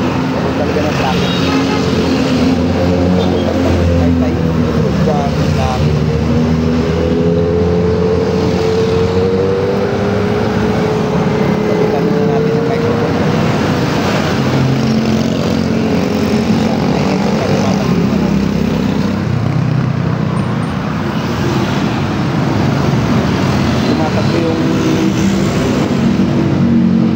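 Road traffic drones steadily throughout, a continuous loud roadway rumble with passing engines rising and fading, while people talk over it at intervals.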